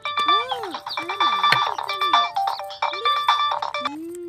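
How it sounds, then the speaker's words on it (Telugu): A phone ringtone signals an incoming call: a loud synthetic melody plays in repeating phrases for several seconds, with voice-like sounds mixed in over the tune. "లాయర్ వర్మ గారి ఫోన్."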